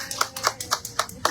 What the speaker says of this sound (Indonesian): Tepuk tangan dong, Ren.